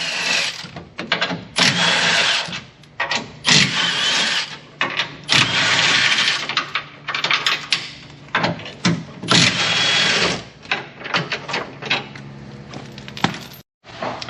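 An impact wrench fitted with a 17mm socket hammers loose the factory rear bumper hardware on a Gen 3 Toyota Tacoma, running in repeated loud, rattling bursts separated by short pauses, close and alone.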